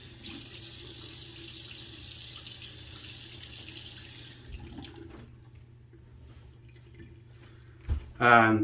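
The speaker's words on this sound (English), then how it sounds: "I'm gonna add some water real quick." Tap water runs steadily into a bathroom sink for several seconds and then shuts off, followed by quiet handling noises and a voice starting to speak at the end.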